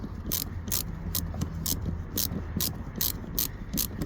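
A 7mm socket ratchet clicks rapidly and steadily while tightening a Jubilee clip on a turbo hose, a dozen or so crisp pawl clicks close up.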